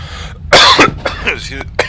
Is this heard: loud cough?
yes